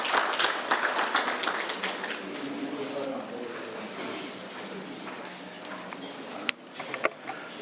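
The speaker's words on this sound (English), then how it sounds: "Maybe we can clap hands for him as he comes through." Applause from an audience, a dense patter of clapping that is strongest early on and then thins out, with voices murmuring underneath.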